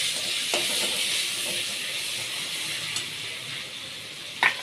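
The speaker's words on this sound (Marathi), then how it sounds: "आता आपण टाकू टॅमॅटो, जिरं, मोहरी, हिंग." Tomato, cumin, mustard seeds and hing sizzle steadily in hot oil, a continuous close hiss with a few brief louder crackles near the end, no voices.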